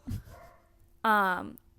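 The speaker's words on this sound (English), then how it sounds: "I'm really sorry if you can hear my dog barking." A dog barks once, close and sharp, after a short stretch of quieter voice-like sound at the start.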